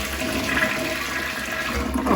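A worn old toilet in a rented room flushes, a continuous rushing gurgle of water at close range with no talking.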